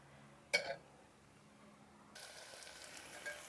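Onions and tomato paste sauté in a single pot, with a soft sizzle that swells into a steady, brighter frying hiss partway through and a short clatter near the start.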